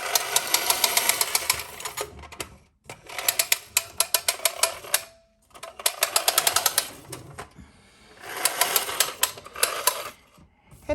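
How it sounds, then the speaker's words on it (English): A 1956 futuristic toy roadster pushed along with its front wheels making a loud rapid clicking motor-like rattle, in four bursts separated by brief pauses, close to the listener. "the front wheels are what's generating the clicking, the motor sound"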